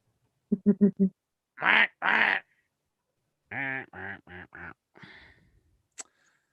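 Duck quacking as a sound effect: a quick run of four short quacks, two longer drawn-out honks, then another run of four quacks trailing into a raspy call, loud and close against silence.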